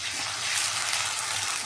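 Ginger-garlic paste frying with onions in a pan, a steady close, broadband sizzle with no talking.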